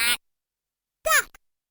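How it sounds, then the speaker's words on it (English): Electronic duck quacks from a Playskool learning desk toy, one clipped quack cut off at the start and then a single full nasal quack a second later, loud and close with silence between. "Duck."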